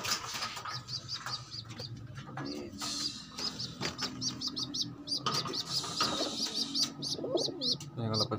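Pigeons coo repeatedly at close range in a rooftop loft, with layered rhythmic coos and chirps running throughout over light background noise and faint wing movement.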